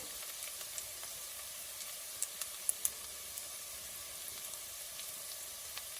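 Dried shrimp brown in a hot pan with a steady, soft sizzle and hiss, punctuated by a few faint pops and light stirring ticks, close and continuous with no talking.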